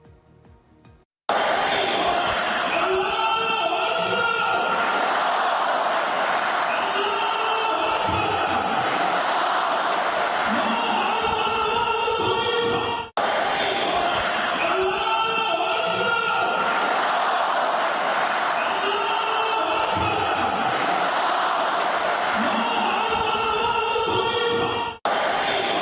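A huge crowd rallies in Tehran for Iran's new supreme leader, loud and sustained with massed chanting and cheering that rises and falls in waves.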